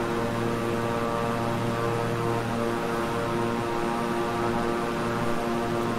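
Twin-engine King Air 350i propeller plane in Microsoft Flight Simulator, a steady droning engine hum with strong tonal propeller whine, constant and loud from start to finish.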